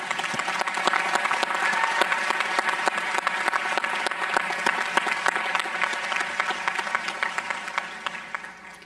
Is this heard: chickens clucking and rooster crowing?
no